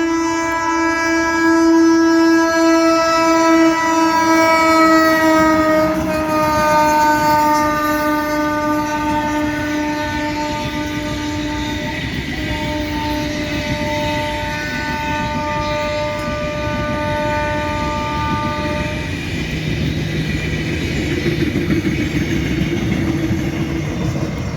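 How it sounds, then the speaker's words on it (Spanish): A train passes close by Chimbarongo station, Chile, with a long, loud horn blast sounding for much of the time, followed by the rumble of rolling cars. "Y justamente ahí viene un tren"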